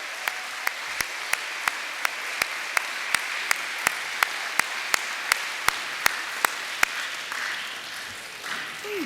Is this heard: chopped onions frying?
no